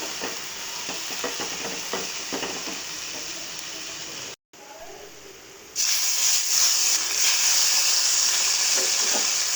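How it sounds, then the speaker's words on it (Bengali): Okra fries in a pan with a steady broadband sizzle and faint stirring scrapes, briefly cut to silence midway, then returning louder and brighter; no talking. "তো ভেন্ডিটা আমি এখানে ভাজি করে নিচ্ছি।"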